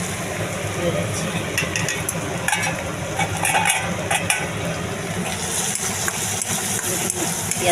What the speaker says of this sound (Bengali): পেঁয়াজটা ভাজা ভাজা হয়ে এসছে প্রায়।